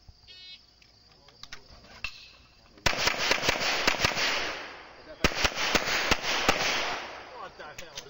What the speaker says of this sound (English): I'm going to show you a master class IPSC shooter shoot the same stage.